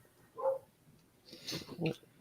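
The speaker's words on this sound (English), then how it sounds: "I apologize if you can hear the dog barking downstairs." A dog barking downstairs in a home, two or three faint muffled barks with a short yip, heard at a distance under light background noise.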